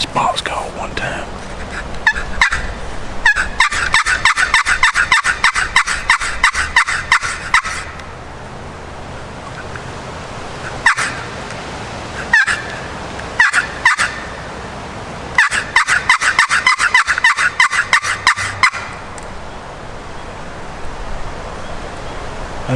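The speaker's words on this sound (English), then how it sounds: "I'm gonna hit this box call one time." A hunter plays a wooden turkey box call on public land in two loud, raspy bursts of rapid, rhythmic yelping clucks with short scratches between them, heard close against a quiet outdoor background.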